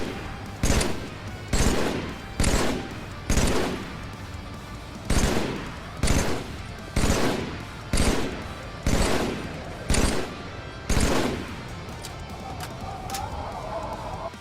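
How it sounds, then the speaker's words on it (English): Battle Rifle gunfire in the video game Halo, fired in about twelve evenly spaced sharp bursts, loud and close, each ending in a brief decaying tail, with a faint voice near the end. "I just think the battle rifle sounds and feels kinda wimpy, a little bit like a BB gun"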